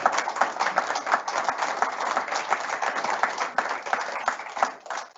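Steady audience applause at an award ceremony, a dense even patter of many hands clapping for several seconds before tapering off at the end, with no talk over it.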